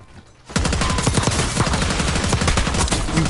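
Sustained rapid gunfire in Warzone, set on Rebirth Island, bursts in after a short quiet moment and stays loud and dense to the end.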